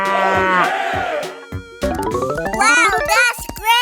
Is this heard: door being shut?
no